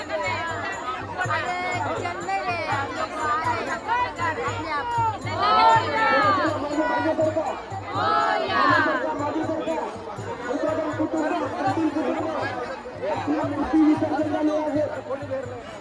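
Dense crowd chatter at a Ganpati idol immersion, a steady hubbub of many overlapping voices with occasional louder shouts rising above the babble throughout.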